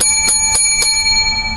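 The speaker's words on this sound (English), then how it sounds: "I got a new hotel bell." A new heavy-duty hotel desk bell, a professional prop, is struck three times in quick succession, giving loud, crisp metallic dings with long ringing overtones that hang on after the last strike.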